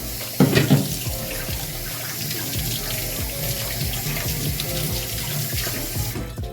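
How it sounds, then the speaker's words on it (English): Water runs steadily from a kitchen tap while potatoes are washed in the sink, a continuous close splashing flow with light knocks and handling noises throughout. "Make sure your potatoes are washed."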